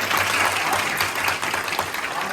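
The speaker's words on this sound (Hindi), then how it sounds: "हम लोग को एक बार ताली बजानी चाहिए।" Audience in a hall clapping together during an interactive session with students, a fairly loud, even wash of many hands with a faint low hum beneath, and a voice may be talking over part of it.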